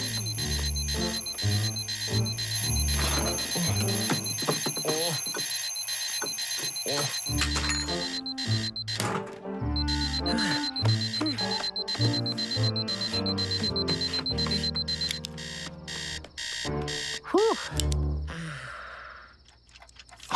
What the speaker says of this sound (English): Oh, there's my first alarm clock.